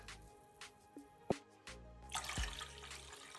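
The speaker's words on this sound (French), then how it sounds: "Je vais compléter avec de l'eau." Water poured into a glass to top up a homemade detangling treatment for curly hair: a quiet, splashy trickle that builds in the last second or so after a few soft knocks and clinks.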